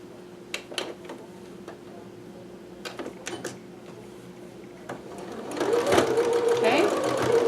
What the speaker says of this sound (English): I'm just going to sew a little bit over what I had already done